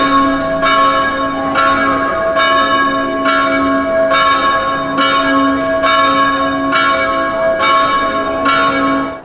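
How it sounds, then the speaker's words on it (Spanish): Church bells peal continuously, in a Croatian town at Christmas time, with a steady rhythm of repeated strikes ringing loud and sustained with no talk over them. "Oigan, están sonando las campanas."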